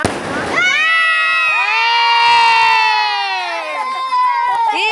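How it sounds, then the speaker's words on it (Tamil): A loud whistling firework rocket shrieks upward in several overlapping rising tones after an initial crackle, with a crowd murmuring beneath. "இப்ப நல்லபடியா வாணி வெடி அடிச்சாச்சு"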